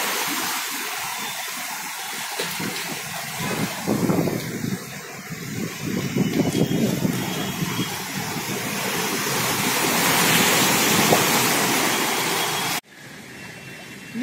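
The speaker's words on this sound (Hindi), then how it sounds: "कितनी पानियां लग रही है गाड़ी।" A vehicle pushes through a flooded street on Exhibition Road in Patna at night, after two days of nonstop rain, giving a steady, loud rush and wash of water that swells mid-way and cuts off abruptly near the end.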